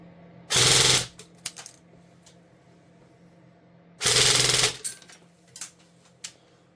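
A G&G SGR 556 airsoft rifle firing on full auto, two loud half-second bursts of rapid buzzing shots a few seconds apart, each followed by faint clicks.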